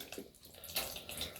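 Hot cream, half a cup, being poured onto chocolate for homemade truffles, a short close liquid pour with soft splashing and gurgle, faint and alone.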